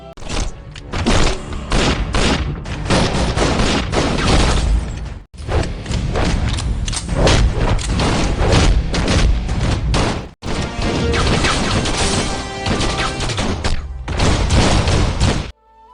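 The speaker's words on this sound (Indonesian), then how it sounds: "Lalu Render dan Malik saling tembak." Shootout in the Bollywood film Dilwale (2015), with loud, dense crashes and thuds from gunfire and impacts packed under a continuous music-heavy score, broken by brief cuts.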